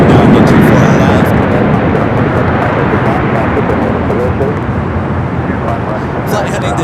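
A Delta Airbus A330 roars down runway 24 left at Los Angeles airport on its takeoff run, a loud broadband jet rumble that holds steady and slowly fades over several seconds.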